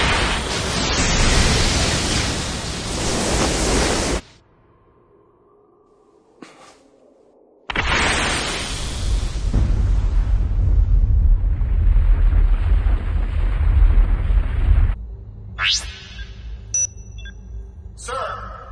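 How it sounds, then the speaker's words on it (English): A spaceship's main cannon fires with a loud roaring blast and explosion, then cuts to near silence, followed by another long thunderous burst and a fading rumble with a sharp crackle near the end. "The main cannon is ready to fire."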